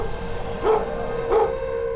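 A dog gives two short barks about half a second apart over a steady hum of background noise, moderately near.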